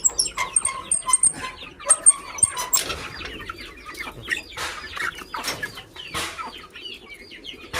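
Chickens in a coop cluck and call close by in a busy, irregular stream of short bursts, with no voices over them.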